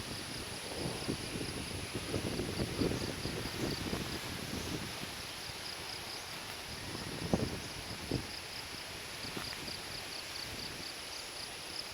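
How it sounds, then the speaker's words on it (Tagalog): Strong monsoon wind roars and buffets the microphone outdoors, with rustling leaves and a faint high insect drone in the background. "Lakas pa ng hangin o."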